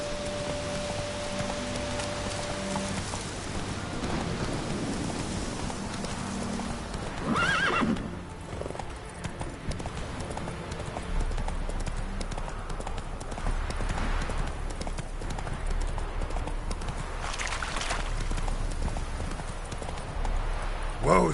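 Roach, the horse in The Witcher 3: Hearts of Stone, clip-clops in a steady galloping rhythm close by, with a neigh, rain in the background, and a voice talking over it.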